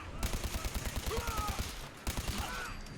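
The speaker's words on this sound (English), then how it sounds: "Let's shoot him with this and see what happens." Rapid gunfire from the video game Fallout 4: a steady run of close, punchy shots in quick rhythm, continuing for about two seconds, pausing briefly, then resuming.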